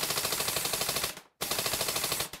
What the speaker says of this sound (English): Hey, not bad shooting there, Tex.